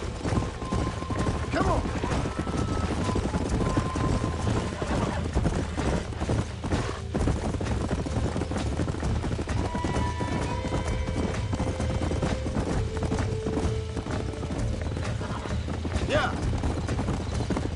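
Horse hooves clip-clopping in a steady galloping rhythm throughout, with occasional whinnies, from the video game Red Dead Redemption; a voice speaks briefly over the hoofbeats.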